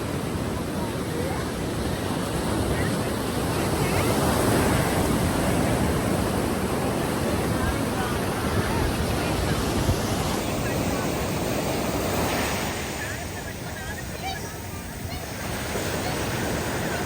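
Ocean waves roll in on the beach at Atlantic City, a loud, steady roar of surf with wind buffeting the microphone, easing slightly near the end as a wave recedes.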